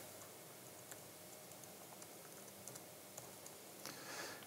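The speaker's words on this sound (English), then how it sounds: "I'm going to type in trigger." A search term is typed on a computer keyboard in a quick run of soft, close key clicks over faint steady background hiss.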